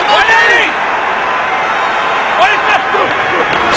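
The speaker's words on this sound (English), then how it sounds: "the crowd, I think they're pretty fired up right now" A fired-up stadium crowd roaring at a Broncos versus Cowboys NFL game, a steady loud wash of cheering and whoops throughout, with a broadcast voice talking over it.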